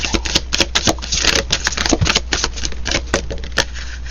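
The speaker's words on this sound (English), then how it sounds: "When I'm shuffling, it's kind of loud." Tarot cards being shuffled by hand during a pick-a-card reading, a loud run of quick rapid snapping taps and riffles close to the microphone, with no talking.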